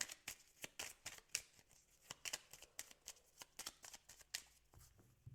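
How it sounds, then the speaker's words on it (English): A deck of tarot cards being shuffled close by, a quick series of crisp riffling snaps and flutters with short pauses between bursts. "let me just shuffle this deck a little bit"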